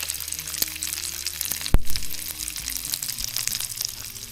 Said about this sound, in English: What better way to season a pan further than to use bacon